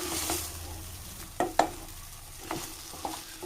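Raw banana and coconut thoran is stirred in a pan, heard as a soft, low sizzle of frying with a few light scraping strokes of the spoon against the pan, close and alone without talking.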